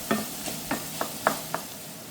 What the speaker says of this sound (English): feel free to stir them in real well so that way they get heat